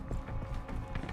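Rhythmic clip-clop of horse hooves trotting along at a steady pace in the video game Far Cry 6, fairly close, with a low background hum.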